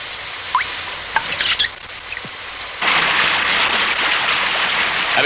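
Steady rain patters near a rising river, a scattering of small drops and ticks that swells into a dense, loud hiss of rainfall partway through.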